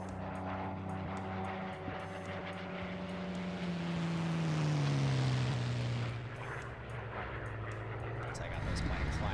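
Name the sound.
aircraft flying around in a military video game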